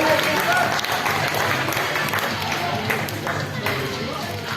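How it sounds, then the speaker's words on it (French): A small audience claps and cheers for competing teams at a Black Crows versus Head Hunters match, a dense continuous patter of hands staying fairly loud and steady throughout. "on peut quand même les applaudir, les encourager"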